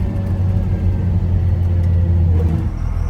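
Cummins diesel burnout truck engine running hard, a loud, steady low rumble with a slight rise in revs near the end, close and continuous with no talk.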